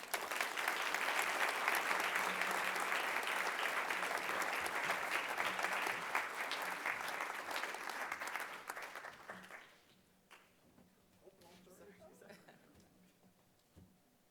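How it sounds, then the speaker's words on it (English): Sustained audience applause at an awards ceremony honoring two people, a dense steady roar of clapping for about ten seconds that then thins out into scattered claps and faint background voices. "Another round of applause for both our honorees."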